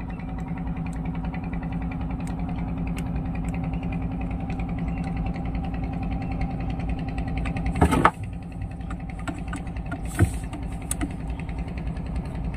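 A Yamaha 15 hp outboard motor, previously submerged in seawater, idles at low revs with a steady, rough drone, surging unevenly a couple of times.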